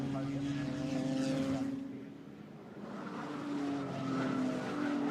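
Ginetta race cars at Snetterton circuit scream past in a rising and fading engine howl, one pass after another at moderate distance, with a commentator talking over the track noise.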